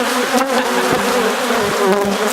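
Angry bees buzz loudly and continuously close by, a dense droning swarm with no voices over it.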